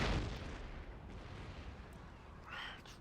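Artillery fires in Empire Total War, a single heavy boom at the start followed by a rumbling, fading tail with faint crackles.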